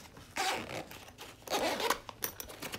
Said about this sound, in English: heavy-duty zipper